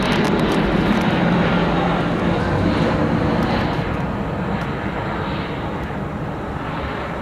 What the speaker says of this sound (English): There's an F-117.